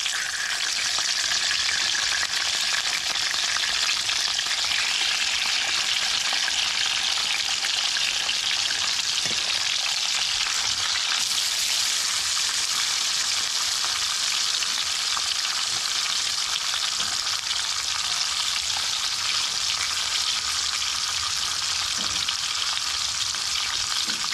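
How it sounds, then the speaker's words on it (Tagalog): Steady, hissing sizzle of milkfish frying in hot oil, close and continuous, with faint stirring sounds and no voices. "maprito po muna ng kaunti"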